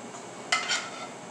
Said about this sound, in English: I'm going to drain out the oil, separate it away from the onions